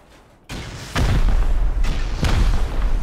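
Heavy booming blasts from C4 or rockets in the video game Rust, a deep rumbling explosion starting abruptly and followed by further loud bursts that keep the roar going.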